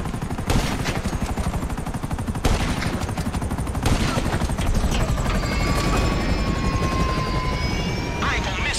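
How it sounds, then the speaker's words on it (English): Police helicopter in GTA 5 gameplay, a steady loud rotor roar filling the scene while bursts of automatic gunfire crack repeatedly over it, with a rising engine whine near the end. "Looks like we've attracted the attention of their air unit."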